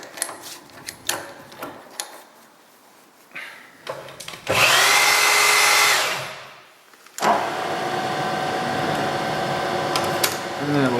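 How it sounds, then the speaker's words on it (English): Drill running a reamer through a bore in a jig bore part, a loud whirring burst of a couple of seconds, then a second long steady run, with scattered handling clicks before it. "get a drill and a reamer"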